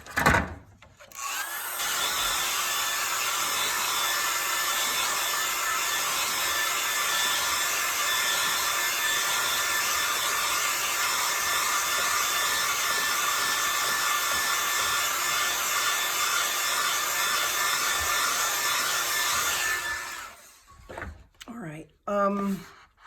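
A hair dryer blows steadily over a landscape painting, a loud, even roar that holds for about twenty seconds before switching off, followed by a few faint handling sounds.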